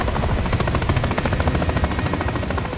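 Helicopter rotor in the Call of Duty Modern Warfare 3 Reactor mission, a loud steady chopping drone that fills the whole clip, mixed with rapid gunfire-like game noise and no speech.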